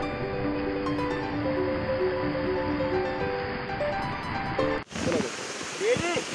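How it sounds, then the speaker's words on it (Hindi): A waterfall's continuous rushing roar fills the scene, steady and fairly close, with someone talking over it and a sudden shift near the end as the sound becomes brighter and splashier. "ये झरना बहुत ही एक सुंदर सा झरना है।"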